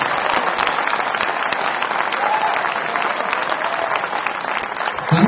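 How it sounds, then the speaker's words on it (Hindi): Thunderous applause from a large audience at an institutional gathering fills the whole clip, dense and steady clapping with no pauses. "तालियों की गड़गड़ाहट बननी चाहिए।"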